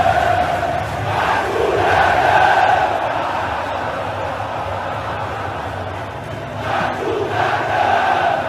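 Vasco da Gama supporters fill a packed stadium with a steady, loud crowd roar, swelling chants rising and falling throughout, distant and reverberant with no single voice standing out.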